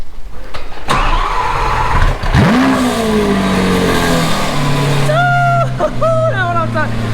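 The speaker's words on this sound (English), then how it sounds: "So he about to give y'all a cold start up." A Lamborghini Aventador cold-starts with a starter whine, a sharp engine catch and a loud rising roar that settles into a deep idle, followed by quick revving blips; someone talks nearby.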